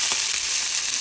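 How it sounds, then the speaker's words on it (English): Steaks seasoned with paprika and garlic powder sizzle on a grill, a steady close hiss of frying fat with faint crackle, no talking. "steaks cooking"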